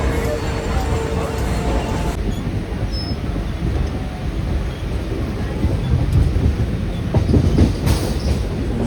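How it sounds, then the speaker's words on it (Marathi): A Mumbai local train bound toward Dombivli pulls into the station and runs past with a loud, continuous rumble and rattling wheel clatter, with a few voices mixed in. "सो चलो, ट्रेन आलेली आहे."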